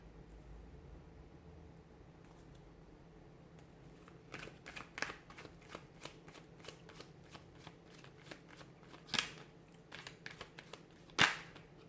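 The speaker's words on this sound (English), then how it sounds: "give the cards a shuffle" Tarot cards being shuffled by hand, a run of crisp riffling and flicking bursts with a few sharper slaps near the end, close and fairly quiet over a low steady background hum.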